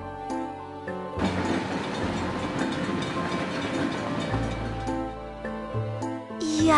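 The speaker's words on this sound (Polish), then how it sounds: "Pociąg!" Train rolling past over background music, a steady rumbling wash with rhythmic mechanical clatter that holds strong through the middle and fades near the end.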